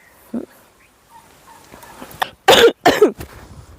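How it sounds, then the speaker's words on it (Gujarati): Several sharp, loud coughs in quick succession, close to the microphone, preceded by softer throat noises and quiet background sounds. "હજી ખાંસી."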